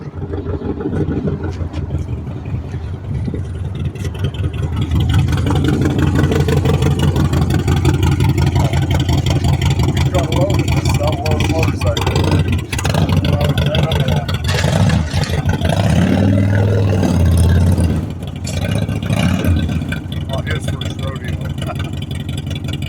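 A motorcycle with a sidecar runs loud and close, its engine revving and surging in steady mid-pitched waves for most of the stretch before easing off near the end.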